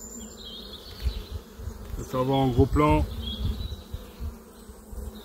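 Honey bees hum steadily around a swarm with their queen, a dense close buzz that continues under a short spoken remark from a beekeeper.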